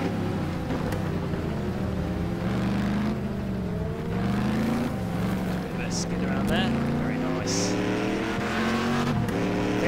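Racing engines in Next Car Game rev and shift through a busy run, with pitch swinging up and down and brief tyre squeals, while someone talks over the top.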